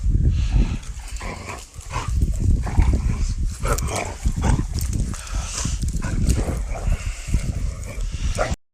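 Several puppies bark, yip and whimper in quick overlapping bursts, close and loud, with a constant busy scramble of small barks throughout.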